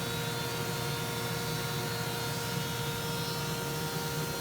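Steady, dense roar of a 20-inch planer fitted with a spiral cutterhead running alongside a dust collector, a constant broadband hum with tonal whine, unchanging throughout and no voices.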